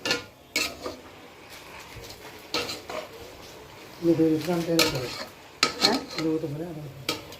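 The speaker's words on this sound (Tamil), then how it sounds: "இப்போ இந்த ஸ்டேஜில் நம்ம வந்து அலசி வச்ச கீரையும் காளானையும் சேர்த்து ஒரு வதக்கிறோம்." Spinach and mushrooms being sautéed in a pot for biryani, with scattered metal clinks and scraping stirs over a faint sizzle, with brief voices between the clanks.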